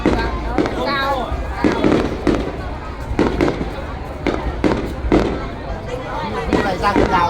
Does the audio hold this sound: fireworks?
yes